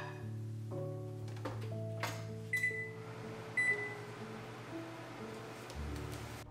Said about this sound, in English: Microwaving citrus peels like lemon, orange, tangerine has dual purpose.